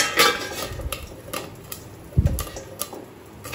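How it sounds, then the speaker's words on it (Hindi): Popcorn stirred in a steel kadhai over the flame, with a spoon scraping and knocking against the metal in irregular clinks and one heavier clatter, close by with faint background hum. "मेरा जो ये स्टील का कढ़ाई है ना, तो इसलिए मैं इसे थोड़ा सा चला रही हूँ ताकि ये स्टिक नहीं हो"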